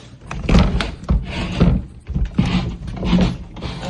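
A damaged, failing basement door being handled, with a series of rough thumps, scrapes and rattles coming close and loud in irregular bursts over a few seconds.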